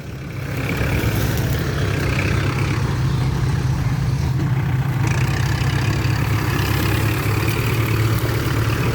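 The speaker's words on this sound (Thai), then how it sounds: "เอารถไถตั้งลำฝั่งนี้" A farm tractor engine idles steadily at close range for the whole stretch, a constant low rumble with no breaks and no voices over it.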